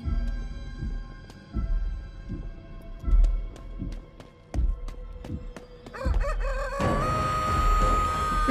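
Chicken clucks and a crowing call in the horror video game Chicken Feet, set over rhythmic thumping beats and rising game sounds that swell louder toward the end.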